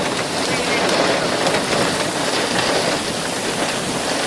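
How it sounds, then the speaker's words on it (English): Hail coming down during a severe thunderstorm, a dense, continuous loud patter of ice striking surfaces nearby, steady throughout with a rushing wet hiss. "Yep, hail's coming down now."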